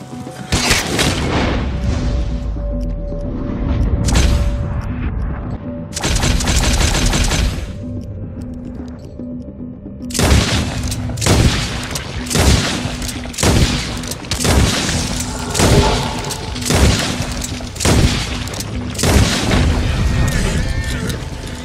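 A Lemat revolver fired in the video game Red Dead Redemption 2, loud repeated sharp shots with booming reports, coming in quick sequences separated by short gaps throughout.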